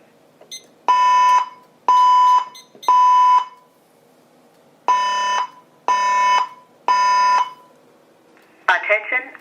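A building voice evacuation system sounds its fire alarm tone: two sets of three loud, even electronic beeps, each about half a second long, separated by a short pause, followed by the start of a recorded voice announcement.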